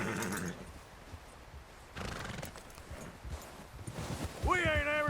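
A frightened horse in Red Dead Redemption 2 whinnies loudly near the end, after snorting and hoof clops, with a voice speaking softly over parts of it.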